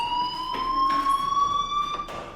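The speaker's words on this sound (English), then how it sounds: "do you hear that fire alarm? That means you should be outside." A school fire alarm in the Life is Strange game sounds as a steady, piercing electronic tone held continuously at moderate loudness, with faint background noises behind it and no talking.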